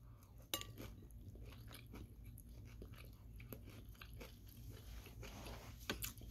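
Crab cakes being bitten and chewed up close, with soft repeated crunchy bites and wet mastication sounds in an irregular rhythm, quiet and alone without talking.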